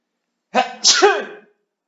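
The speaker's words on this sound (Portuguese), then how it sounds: "vou espirrar, desculpa, só um minutinho." A single loud sneeze up close, with a sharp intake building into an explosive burst that trails off quickly.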